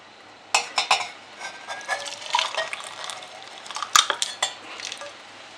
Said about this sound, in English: Now let's see how well it pours.